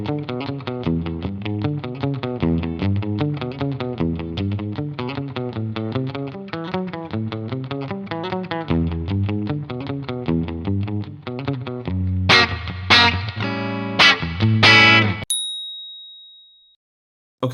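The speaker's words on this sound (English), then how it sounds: "So the easiest one that I wanted to start out with is actually called a slapback." Electric guitar with a slapback delay effect, a country and rockabilly style riff of quick picked notes each followed by a short echo, ending with a few bright ringing chords and a sustained harmonic.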